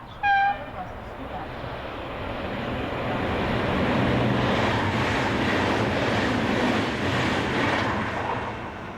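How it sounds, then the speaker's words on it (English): A Pendolino train passing through a three-way junction station, a brief horn note followed by a broad rushing roar that swells and holds steady, with someone talking over it. "as Pendolino number 4001 heads north"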